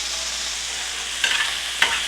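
Chicken fries in a pan with a steady hiss, and a utensil scrapes and stirs twice, the two strokes clearly audible over the sizzle, with no talking.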